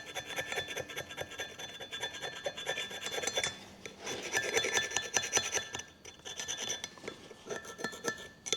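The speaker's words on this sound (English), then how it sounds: "Clean this surface up because we've got a new gasket to put on there." A steady, gritty rasping scrape repeats continuously as an old gasket surface is cleaned on a Toyota Hilux LN167 wheel hub, close and moderately quiet, with no talking.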